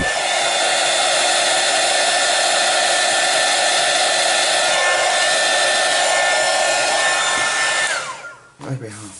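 Hair dryer blowing steadily over a coloured pencil drawing of tigers on paper, loud and close with a constant whine for about eight seconds before it switches off and winds down.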